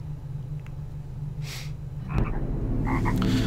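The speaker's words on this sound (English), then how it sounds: "These frogs are a huge pain in the ass." Frogs croak in the Enchanted Earth level of the video game Medievil, a few scattered croaks over a low droning background, followed by a louder, denser burst of croaking near the end.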